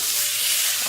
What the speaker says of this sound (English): And you want that sizzle.